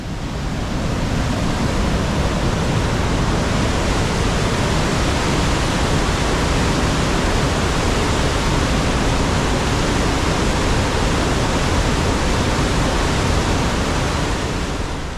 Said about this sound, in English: We're still at Dawson Falls and we've come for a bit of a closer look.